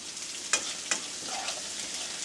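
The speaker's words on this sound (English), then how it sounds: "when you fry off your tomato, onions, give it a better flavor to me" Tomato and onions fry in oil with a continuous loud hiss and sizzle, broken by two quick spatula scrapes near the start.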